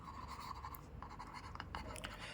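Marker or chalk scratching briefly across a classroom board in a short burst of strokes, faint and close, with light room noise behind it.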